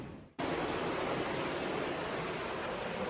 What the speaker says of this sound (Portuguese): se vocês estão ouvindo de fundo já um barulhinho de água, é essa mesma água que o rei Davi entrou